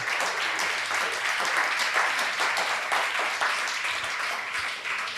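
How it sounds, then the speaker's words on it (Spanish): A church congregation claps together during a Sunday sermon, a loud continuous roar of many hands that holds steady throughout. "Si va a aplaudir, apláudalo,"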